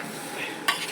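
Broken wheat stir-roasts in a hot pan with a steady dry sizzle and faint scraping, ending in a brief sharp clink of a utensil.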